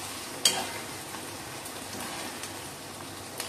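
Onions frying in a pan with crushed kasuri methi for methi chicken, giving a soft, steady sizzle and faint crackle throughout with one sharper pop near the start and no voices.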